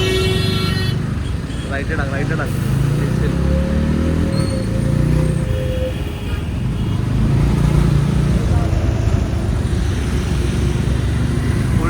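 Busy road traffic with car and motorcycle engines rumbling steadily close by and brief horn toots near the start, while someone talks over the noise.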